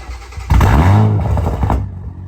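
A Toyota Supra fitted with a titanium exhaust fires up for the first time, a loud, close engine bursting to life with a deep, throaty roar that holds steady for over a second before cutting off.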